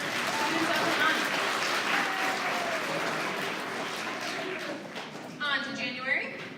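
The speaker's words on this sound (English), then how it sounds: "One more round of applause for our December Students of the Month." A school awards assembly claps for the December Students of the Month, a steady round of applause that thins toward the end as a voice begins speaking over it.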